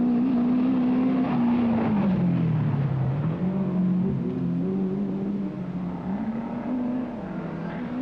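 A Fiat Ritmo rally car on a 1983 Rally of the Lakes stage, its engine note droning and rising and falling steadily as it drives past at a moderate distance, with no voices over it.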